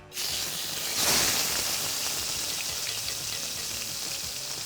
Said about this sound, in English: are you ready for this insanely loud sizzle?